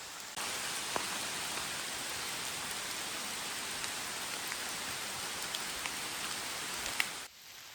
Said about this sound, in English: I did not expect the rain today,